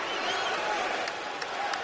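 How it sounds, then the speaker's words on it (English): Basketball arena crowd chanting for Andrés Nocioni of Argentina's national team, a dense, steady roar of many voices filling the hall with faint claps poking through. "Andrés Nocioni hearing the chant from the crowd"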